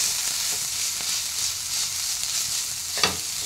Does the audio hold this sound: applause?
no